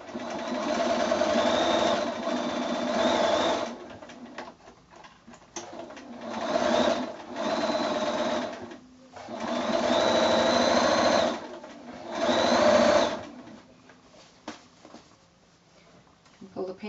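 A sewing machine stitches the casing of a drawstring bag close to its folded edge in four sustained whirring runs of a few seconds each, separated by short pauses, close and clear.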